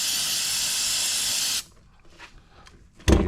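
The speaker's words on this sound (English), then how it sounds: "hit it with a little bit of brake cleaner to clean off all the excess oil" Aerosol brake cleaner sprays onto a car differential in a loud, steady hiss lasting about a second and a half, then stops, followed by faint handling noises and a brief final spurt of spray.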